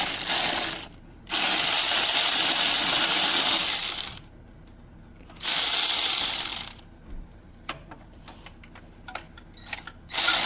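A ratchet wrench clicks in quick bursts while loosening the oil drain plug under a Mitsubishi Evo 9, with two long stretches of rapid ratcheting and then scattered metallic clinks and taps close by.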